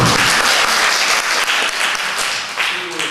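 Dense audience applause from many hands, loud and close, a continuous crackling clatter for the whole stretch with slight dips in intensity.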